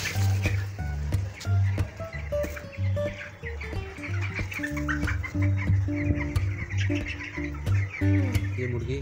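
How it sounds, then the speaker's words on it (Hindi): White Allahabadi chickens cluck and call at a poultry farming unit, a busy flock of close, overlapping clucks and short cackles continuing throughout with occasional chirps. "इलाहाबादी सफ़ेद मुर्गी पालन इकाई।"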